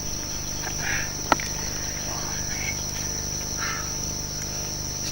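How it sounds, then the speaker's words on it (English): A cricket chirps at night in the Australian outback. Its shrill, high trill runs without a break, close and constant, with one sharp click and faint distant murmurs in the background. "Oh, what a cricket."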